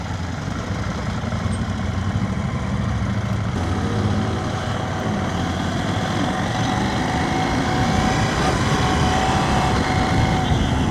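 A 2023 Yamaha Tenere 700 motorcycle engine runs steadily nearby, a continuous rough rumble with a noisy, broadband texture that holds at an even loudness throughout.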